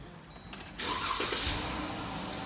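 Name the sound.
Jeep Grand Cherokee engine starting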